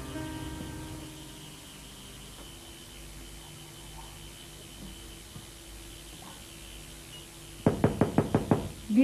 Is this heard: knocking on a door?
yes